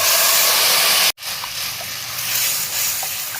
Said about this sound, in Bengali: দিয়ে আমি যে তেঁতুলটা জাল করে রেখেছিলাম সেই তেঁতুলটা আমি এর মধ্যে ঢেলে দেব।